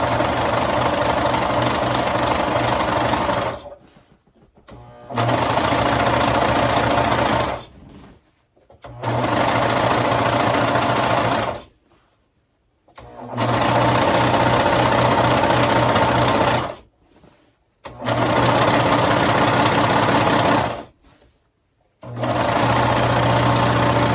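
A sewing machine stitches the bottom seam of a skirt in loud, close, steady whirring runs of several seconds each. The runs are separated by brief quiet pauses.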